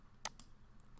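A single sharp computer mouse click on an on-screen button, close and crisp, followed by a couple of faint softer clicks in a quiet room.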